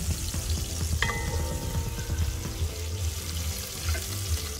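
Spices and curry leaves sizzle and fry in a pan over an outdoor fire grill for a beef curry, a steady dense crackling hiss with a few clinks, heard close and alone.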